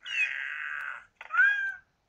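A cat in the video game Catz 4 gives two clear meows, a long level first call, then a brief pause and a second meow that rises and trails off, close and alone.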